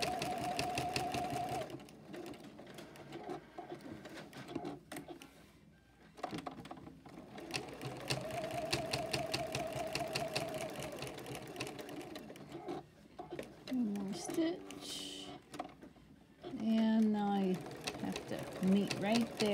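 A sewing machine stitches a folded star quilted hotpad, a rapid steady mechanical chatter running nearly continuously with brief pauses and speed changes, a voice talking over it toward the end.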